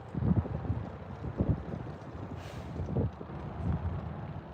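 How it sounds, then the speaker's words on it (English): Strong outdoor wind buffeting the microphone, a rumbling roar with gusting surges throughout, close and loud with no talk. "the wind's blowing pretty hard"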